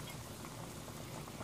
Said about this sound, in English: this one has been boiling for the last 15-20 minutes